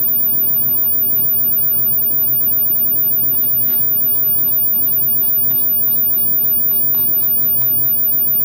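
A paintbrush strokes fur onto a bunny banner, making a faint, soft scratching with light intermittent ticks and whisks against a quiet room background.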